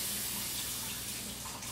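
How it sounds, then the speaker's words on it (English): Hands are rinsed under a running kitchen tap, water splashing steadily into a sink in a brief, close, hissing stream. "Let me rinse my hand off"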